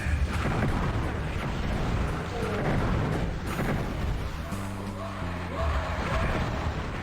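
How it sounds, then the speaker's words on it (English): Time bombs go off in the dark fantasy shooter Heretic, a continuous roar of dense, rumbling blasts with overlapping booms and crackling debris filling the whole stretch at steady loudness. "Since we have some time bombs, let's place some right there."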